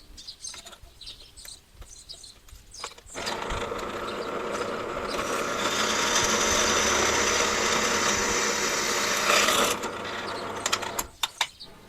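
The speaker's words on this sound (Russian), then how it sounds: "Дальше берем уголок, отмечаем и делаем отверстие." A steel angle being drilled for an extra mount on a trimmer attachment: a steady, loud grinding whir runs for about seven seconds after light handling clicks, then stops, followed by a few sharp knocks.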